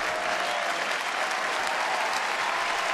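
A baseball crowd in the stands rises in a standing ovation for a pitcher, sustained dense applause and cheering rolling on evenly throughout.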